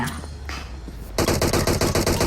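In a PUBG video game, after a second of muffled background noise, rapid automatic gunfire erupts loudly in a fast, even stream of shots.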